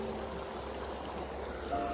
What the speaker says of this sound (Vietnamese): suối đá luôn. Và suối này chảy quanh năm